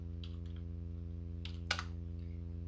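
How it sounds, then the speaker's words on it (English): Keys tapped on a computer keyboard in a few short clusters of light clicks over a steady low electrical hum, near and fairly quiet, with no voices. "then we can go ahead and type in our 28L"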